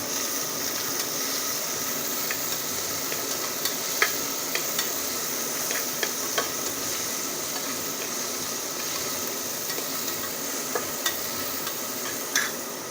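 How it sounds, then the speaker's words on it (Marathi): Finely chopped tomatoes frying in oil in a pan while being stirred, a steady close sizzle with scattered scraping and clinking of the spoon throughout, no talking. "टॉमॅटो मी चांगला तेलात परतून घेतलेला आहे."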